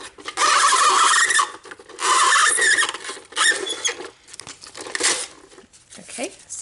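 A card piece is cranked by hand through a crank machine while making brush-stroke message cards. The result is rough rasping and crinkling grinding in long close bursts, followed by shorter scrapes.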